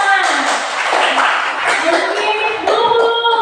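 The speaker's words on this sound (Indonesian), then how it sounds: "Ya, tepuk tangan." Children in a fourth-grade classroom clap for a group that has just presented, a short burst of scattered hand claps mixed with chatter and a teacher's voice.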